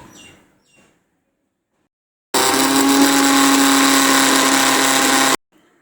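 A mixer grinder grinds green chillies, mint and garlic, a loud steady whirring motor burst of about three seconds that starts and stops abruptly after near silence.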